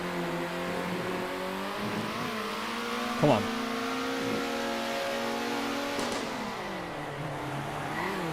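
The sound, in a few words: race car engine revving in the video game Circuit Superstars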